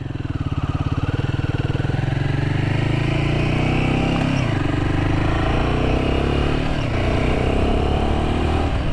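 A Royal Enfield Himalayan 450 single-cylinder motorcycle engine runs loud and close, a dense steady thrum whose pitch rises and falls as the throttle changes.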